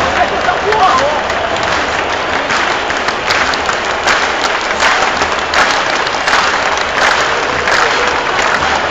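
Football stadium crowd at the Maracanã during a 2009 penalty shootout, a loud continuous roar with clapping and chanting that surges in bursts across the stands.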